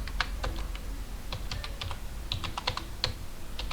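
Fast, irregular keystrokes tap on a computer keyboard while CSS code is written, a quiet, close clatter of light clicks with no talking.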